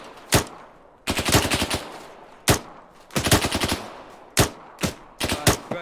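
Rapid rifle fire in ARMA 3, a military training exercise with fire directed at a barn: loud, close bursts of automatic shots come in several clusters separated by short pauses, with sharp single reports between them and no talk.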